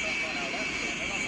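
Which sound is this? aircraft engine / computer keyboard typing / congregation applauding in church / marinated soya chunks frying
aircraft engine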